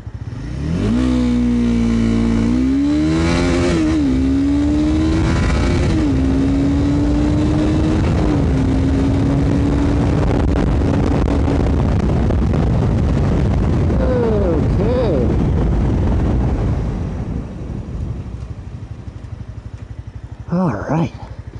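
A Honda CBR300R motorcycle accelerates hard from standstill to 60, its loud close engine note climbing in pitch through several gear shifts, then easing off under rushing wind noise toward the end.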